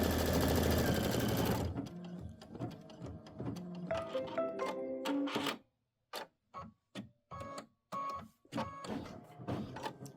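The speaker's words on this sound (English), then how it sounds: "I'm going to do the placement stitch for the body." A digital embroidery sewing machine sews a placement stitch for a quilt block, first a steady loud hum, then rapid rhythmic stitching that breaks into short separate bursts with brief silences between them, no voices.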